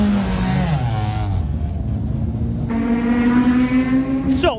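A Vauxhall Cavalier GSi classic touring car pulls away at Donington Park for qualifying, its engine rising and falling in pitch through close, loud revs and gear changes with no talking.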